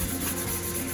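A flat cutting board being scrubbed clean in a food lab, a steady, continuous rubbing scrape at close range with no talking.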